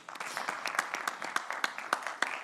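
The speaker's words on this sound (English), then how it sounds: "So please give a round of applause to these two amazing female panelists" An audience claps for two female panelists at the CoMotion GLOBAL 2025 conference in Riyadh, a thin, moderately distant patter of individual claps.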